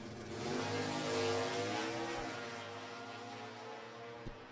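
Superstock drag race with a 383 Dodge Challenger against a 1967 first-generation Ford Mustang: loud, steady engine roar sustained throughout, with no talk.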